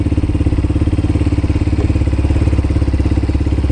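A motorcycle engine idles at close range just after being restarted during a CBT training session, a steady rapid thumping pulse with a low mechanical clatter that never changes pace.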